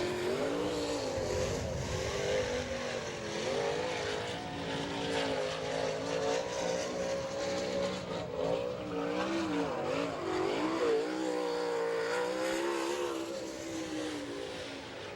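A number 98 sprint car from Tiffin runs a qualifying lap at Attica, Ohio, in an All Star Circuit of Champions event, its engine droning loud and steady throughout with pitch sweeps as it works around the track.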